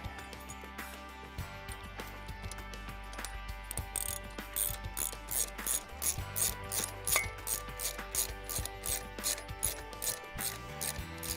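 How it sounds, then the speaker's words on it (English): Bolts with washers and nuts are tightened down, with a rapid run of metallic ratcheting clicks, close and fairly loud, speeding into a regular rhythm over a faint background hum, without speech. "then we'll tighten everything down"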